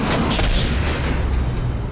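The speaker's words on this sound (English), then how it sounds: "On my command, fire the Titan cannon." A Titan cannon fires in the Warhammer 40k: Dawn of War – Soulstorm strategy game, a loud, continuous deep boom with rumbling low end that sustains for about two seconds without letting up.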